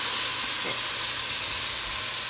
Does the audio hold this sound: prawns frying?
yes